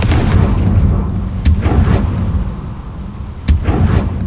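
Confringo blasting spell explosions in the Hogwarts Legacy video game: two sharp, loud blasts about two seconds apart ring over a constant low, rumbling game background.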